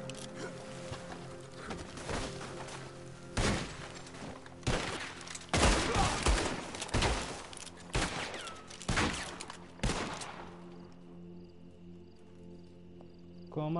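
Pistol gunfire in the Red Dead Online video game, a series of loud sharp shots spaced irregularly over a background of game ambience, with some talk.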